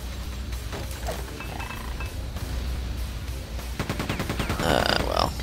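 An enemy gunner opens fire in Quake II, a dense rattling volley of shots near the end amid game noise and creature growls, with scattered weapon sounds earlier.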